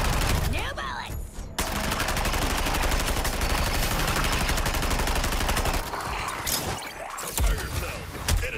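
Rapid automatic gunfire from new bullets in the Suicide Squad video game, a dense, loud, continuous stream of shots, briefly broken and then resumed with scattered impacts toward the end.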